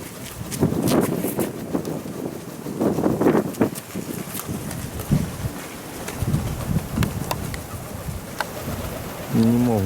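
Strong gusty wind roars and buffets the microphone in steady surges outdoors while pigeons fly, with faint bird calls scattered through the rush.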